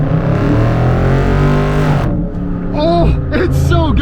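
A Dodge Scat Pack engine drones loudly and steadily, eases off for a moment, then revs up again in rising surges, heard close by.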